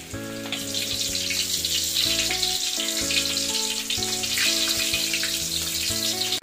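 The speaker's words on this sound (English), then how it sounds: "Let's fry it, and then let's fry it." Shrimp tempura deep frying in hot oil gives a steady, dense crackling sizzle close by that never lets up, with background music playing throughout.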